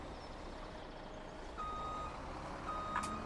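Faint, steady truck reversing beeps from a vehicle in Farming Simulator 17, repeated tones over a constant engine rumble and background hum, with no talking.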